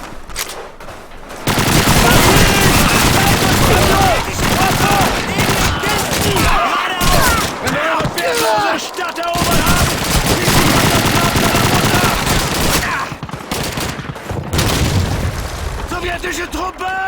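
Loud, dense bursts of rifle and machine-gun fire in Call of Duty 2's Russian campaign, rapid volleys and booms with brief lulls, under shouted soldier voices.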